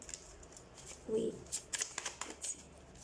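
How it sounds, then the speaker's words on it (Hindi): Tarot cards are pulled from a deck during a pick-a-card reading, giving several short papery slides and flicks, with a soft, low hand noise partway through and quiet surroundings. "एक मिनट मैं सारे कार्ड्स निकाल लूँ पहले"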